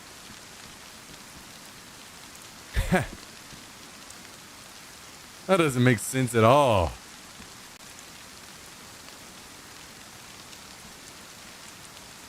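Steady rain hisses in the DayZ survival game on the Chernarus map, a constant soft wash of drops, interrupted by two short bursts of someone talking.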